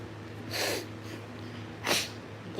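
Two sharp nasal sneezes or snorts from dust allergy in a house, close and abrupt, about a second apart over quiet room noise.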